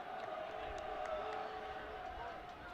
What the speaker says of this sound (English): Crowd getting on Giustini